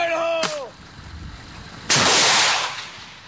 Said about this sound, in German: Es kracht, es knallt, es wird geballert.